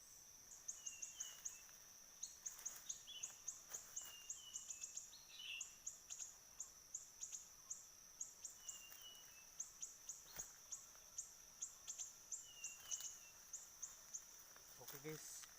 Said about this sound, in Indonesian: Ini burung siri-sirinya guys.